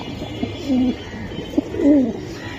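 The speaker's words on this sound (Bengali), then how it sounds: "এটা মিলিটারি কবুতর, তাই না ভাইয়া?" Large military pigeons coo up close, two soft throaty rolling coos with a light wing-flutter or tap between them, clear and alone.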